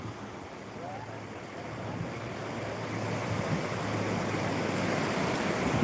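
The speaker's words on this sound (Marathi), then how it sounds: "पाण्याचा प्रवाह इतका मोठा आहे" The flooded Sina river near Shingoli rushes past in a strong, steady broadband roar with wind buffeting the microphone, growing slightly louder toward the end.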